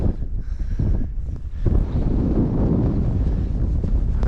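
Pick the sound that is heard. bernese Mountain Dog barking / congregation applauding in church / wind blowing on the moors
wind blowing on the moors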